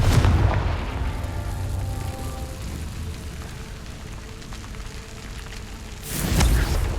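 A Confringo fire spell in the Hogwarts Legacy video game erupts as a loud explosive boom, then a long rumbling roar trails off and a second burst swells near the end.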